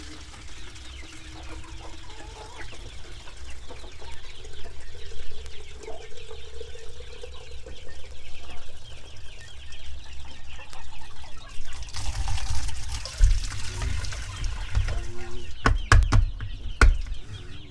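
Native chickens cluck softly around fresh water, scattered calls under a low background, followed near the end by louder splashing and sharp clattering knocks.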